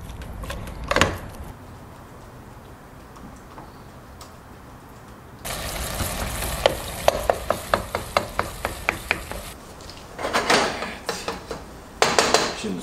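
Ground beef sizzles and crackles in a pan while a utensil scrapes and taps against the metal in bursts, with several sharp clinks near the end.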